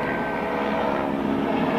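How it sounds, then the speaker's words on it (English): Helicopter flying overhead at a steady, loud rotor-and-engine drone that holds level throughout, with no voices. "Yeah, helicopter."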